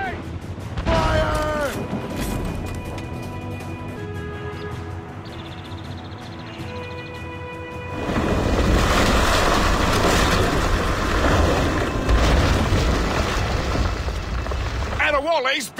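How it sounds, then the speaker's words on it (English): Mortar fire in Assassin's Creed Rogue, a naval battle on a lake, where heavy booming blasts and rumble build into a loud sustained roar from around the midpoint, with tonal music and shouting voices over it. "Mortars incoming, Shay! Fire!"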